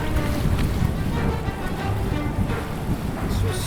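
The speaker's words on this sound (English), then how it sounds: "This wind's not helping us." Strong wind buffets a fishing boat on the water near Tampa, Florida, a loud, continuous roar and rumble of gusts over the microphone, with water and boat noise mixed in.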